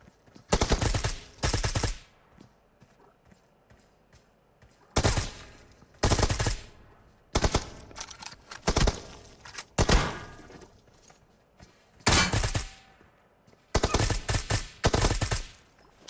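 Automatic gunfire in the PUBG Mobile video game, heard as several loud bursts of rapid shots separated by short quiet gaps across the clip.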